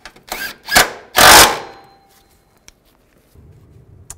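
A power tool snugs down a brake bracket bolt on a 2000-06 Chevy Tahoe during a front brake hose replacement, giving three short close bursts of whirring with brief gaps, followed by near quiet.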